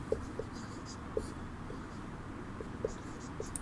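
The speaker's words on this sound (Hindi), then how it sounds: "हेडिंग डाल के हम लोग यहाँ पर लिखना शुरू करेंगे" Chalk or marker taps and scratches faintly on a classroom board in sparse, irregular strokes while a teacher speaks Hindi in the background.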